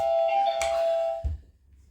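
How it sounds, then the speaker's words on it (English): A doorbell rings indoors with a sustained electronic chime tone that fades out after a little over a second, followed by a soft thump and quiet room. "I need a quieter bell."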